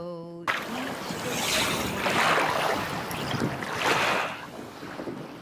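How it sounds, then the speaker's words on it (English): Ocean waves wash in a steady broadband roar, swelling and receding in slow surges with wind buffeting the microphone, heard alone after a brief tonal sound at the very start. "You hear that? Those are waves, right?"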